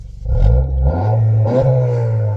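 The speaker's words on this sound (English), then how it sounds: "it does offer an excellent note when you rev" A 2022 Honda Civic Mugen engine revs hard through a deep, throaty stainless exhaust, rising and falling in pitch as the throttle is blipped twice, loud and close.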